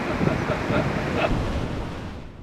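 Surf rolling in at Periwinkle Beach near Marrawah on Tasmania's west coast on a calm day, a steady broadband wash with wind buffeting the microphone, no talk.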